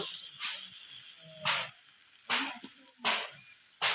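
Taro leaves cooking with prawns in a wok, with the wet mixture being stirred in repeated scraping strokes that give bursts of hiss and rustle roughly every second, all close by over a faint steady hiss.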